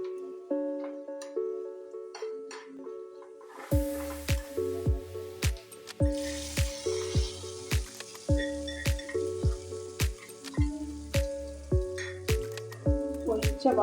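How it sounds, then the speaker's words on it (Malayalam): Hot tempering poured into a Kerala prawn curry with jackfruit seeds and mango bursts into a loud sizzle, followed by a regular series of sharp clinks and sputters, close, over a tonal hum. "നമുക്കിനി കറിയിലോട്ട് ഒഴിക്കാം."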